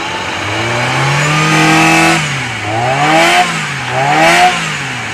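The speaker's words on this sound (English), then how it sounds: "Yay, it's running." The engine of a car that was submerged over the roof in a flood runs and revs loudly up close, rising and falling in three strong surges.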